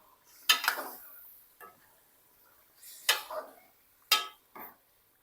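A spoon scraping and clinking against a karahi pan as chicken karahi is mixed, a few separate near strokes with quiet pauses between them.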